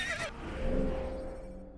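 A horse in Assassin's Creed gives a short neigh that falls into a wavering whinny, close and fairly loud, ending within about two seconds.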